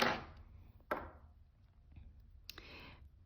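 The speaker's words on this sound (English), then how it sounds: "I'm just gonna snip it" Scissors snip embroidery floss during hand stitching, giving a few sharp, close clicks: one at the start, another about a second later and a fainter one near the end, with quiet room noise between.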